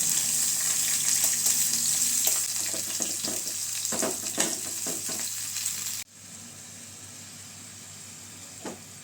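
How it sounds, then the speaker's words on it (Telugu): Onions frying in oil in a pan for a chicken curry, a steady close hiss with occasional crackles that drops abruptly to a softer sizzle partway through, with no speech. "ఈ ఆయిల్లోనే ఈ ఆనియన్స్ వేసి దూరగా వేయించాలి"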